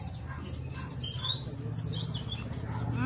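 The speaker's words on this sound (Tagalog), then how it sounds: "Sarap pakinggan ng mga ibon." Several birds chirp and tweet in short, bright calls scattered over a soft outdoor background, fairly close.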